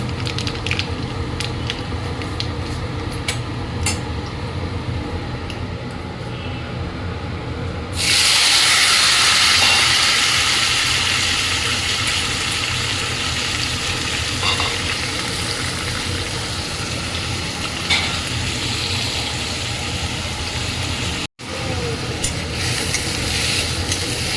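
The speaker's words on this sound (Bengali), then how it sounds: "আমি এবার এখানে একটু রাঁধুনি ফোড়ন দেব, একটু কালো জিরা ফোড়ন দেব।" Radhuni and black cumin seeds hit hot oil for tempering, raising a sudden bright sizzle over a steady kitchen background hiss that settles into continuous frying with no talking.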